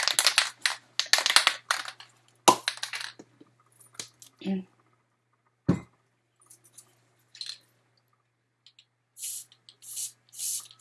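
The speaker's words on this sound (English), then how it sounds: "I shake it real well." Irregular rattling and clattering of a Gorilla Glue spray adhesive can being shaken, bursts of jangling taps followed by a few softer shakes and brief spray-like hisses.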